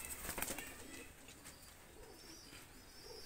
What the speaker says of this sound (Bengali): দুইটা কবুতর ছেড়ে দেখাচ্ছি আমি